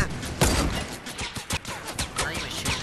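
Gunfire in the video game Fortnite: a series of sharp, fairly loud shots at an uneven rhythm, some spaced apart and some clustered, with no talking.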